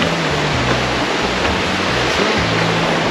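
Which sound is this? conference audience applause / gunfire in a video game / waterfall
waterfall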